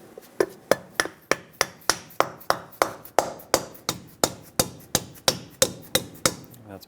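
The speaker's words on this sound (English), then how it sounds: "Take a rubber mallet, tap it into place." A rubber mallet taps a ball joint cap into place on the front suspension of a 2007-2014 Chevrolet Silverado 2500 HD, about twenty sharp, evenly spaced knocks in quick succession, close and clear.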